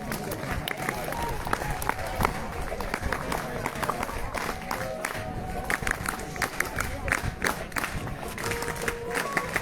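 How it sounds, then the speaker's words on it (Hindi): Students and volunteers at a school NSS special camp closing ceremony clap loudly to welcome special guests, a steady dense patter of applause with crowd noise and voices mixed in throughout. "हमारे विशेष अतिथियों के स्वागत के लिए जोरदार तालियां हो जाए"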